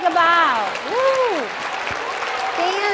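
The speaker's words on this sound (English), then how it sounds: "Let's give them a round of applause and take a bow." Audience applause at a school reading program gathering, steady clapping mixed with a voice whooping and calling out in rising and falling tones throughout.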